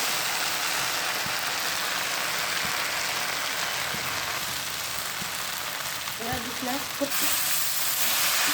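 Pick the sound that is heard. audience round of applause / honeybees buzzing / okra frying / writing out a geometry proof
okra frying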